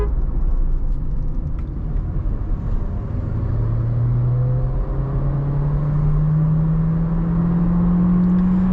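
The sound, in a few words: Volkswagen Virtus car driving and accelerating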